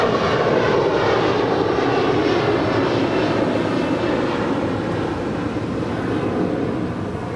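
A fixed-wing airliner takes off at Los Angeles LAX airport, its engines producing a loud, steady jet roar that fills the whole stretch with little change in level.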